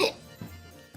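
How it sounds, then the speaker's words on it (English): A single short hiccup right at the start, close and fairly loud, followed by quiet room sound and a faint second catch of breath near the end. "Okay, hiccup, time to drink."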